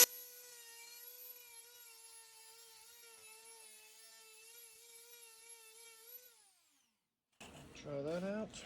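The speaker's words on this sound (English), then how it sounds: "Gonna grind off a little bit more." Rotary tool grinding plastic off a Tactacam 5.0 tripod mount, a steady high whine held for about six seconds before winding down, followed by someone speaking.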